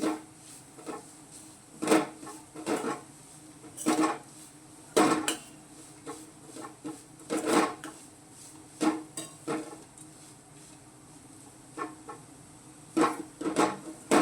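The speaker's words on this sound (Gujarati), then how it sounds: "જો આ રીતે આપણે હલાવતા રહેવાનું છે।" Leftover roti chevdo stirred in a pan over low heat, a series of repeated scraping clinks of a spoon against the pan at an uneven rhythm, close and clear with no talk.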